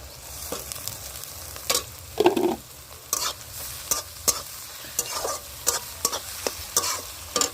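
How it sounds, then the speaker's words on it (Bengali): Onions being stirred and fried in a pan with garlic and ginger for chicken kosha, with repeated scraping strokes of a spoon against the pan over a steady sizzle, close and fairly loud, no voices. "একটু নাড়াচাড়া করে পেঁয়াজগুলো ভেজে নিলাম"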